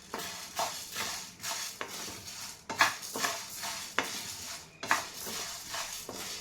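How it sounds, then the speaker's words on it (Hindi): Sabudana (sago pearls) dry roasting in a pan over a low flame, stirred with a spoon in repeated scraping strokes, each stroke a soft rasp with light rattling of the grains and occasional clinks against the pan. "अब साबूदाना थोड़ा सा रोस्ट कर लूँगी"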